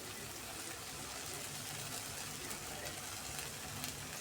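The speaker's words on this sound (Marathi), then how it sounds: "त्याच्यामध्येच आपण काजूची पेस्ट घालून घेणार आहे." Cashew paste hits a hot pan of dhaba-style veg Maratha gravy, setting off a steady, close, even sizzle and frying hiss that runs unbroken with no talking.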